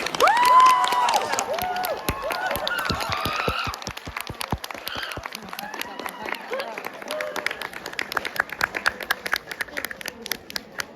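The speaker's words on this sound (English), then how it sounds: "Can you give a big round of applause to all the staff?" Audience applauding the staff at a school gathering, dense clapping mixed with cheers and children's shouts at first, then thinning to scattered claps.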